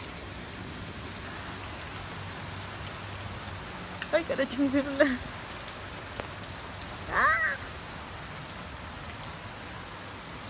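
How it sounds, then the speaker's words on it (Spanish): Heavy rain hisses as a steady, even wash of fine drops throughout, with a woman's brief exclamations breaking over it partway through. "Está que llueve horrible."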